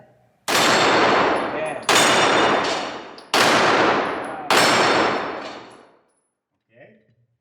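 Glock 34 Gen 4 pistol fired four times at steel flipping targets outdoors, each loud sharp shot with a ringing metallic decay, spaced about a second and a half apart, with a faint brief voice afterward.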